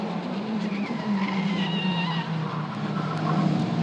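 Italian F4 race cars lock up and skid on a greasy Monza track, a loud sustained tire squeal with wavering pitch over the continuous drone of engines.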